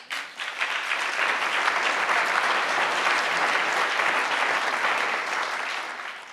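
A crowd gives a full round of applause during Gretchen Whitmer's keynote address, swelling quickly and holding steady before tapering slightly near the end, with no talk over it.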